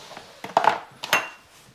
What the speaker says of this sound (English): we want a nice silicone spatula or wooden spoon just to stir those onions around, get them all coated in the butter